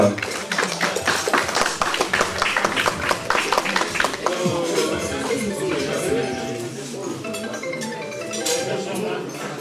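An audience claps and taps for a singer-songwriter at an Afro evening event, loud, dense applause opening with sharp claps that thin into a steady wash of clapping alongside music.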